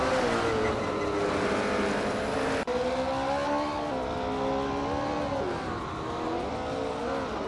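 Engines of vintage ultralight race cars, including a 1965 Cooper Type 61 Monaco, in a video game race, droning steadily and loudly throughout with rising and falling pitch as they rev and shift, one brief dropout midway.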